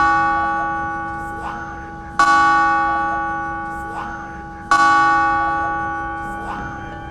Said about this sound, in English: Enjoy the bells striking the hour.